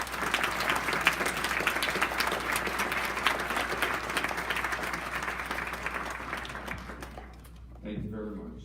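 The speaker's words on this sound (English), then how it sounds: "please, a round of applause" An audience at an Atlanta educational tour event breaks into sustained, dense applause that fills the room for about seven seconds, then tapers off as a voice starts speaking.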